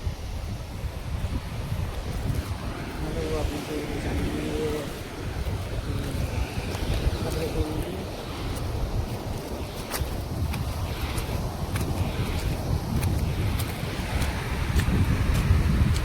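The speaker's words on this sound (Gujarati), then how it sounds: "કંઈક આવું દરિયા કિનારો છે અમારા ગામનો" Waves roll onto a village seashore near Mangrol port under steady wind, a continuous washing surf with gusty rumble against the microphone that swells toward the end.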